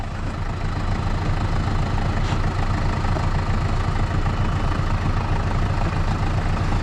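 A Massey Ferguson 5440 tractor engine idles with a steady, low rumble on without a break, heavy and continuous, with no voices over it.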